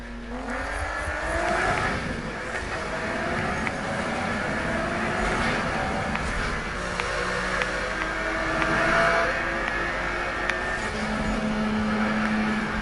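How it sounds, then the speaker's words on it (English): Need for Speed 2015 video game car with a steady, loud engine drone and shifting revs, and faint tire squeal from drifting running underneath throughout. "Hear the engine sounds. Take note of the engine sounds. And the drifting."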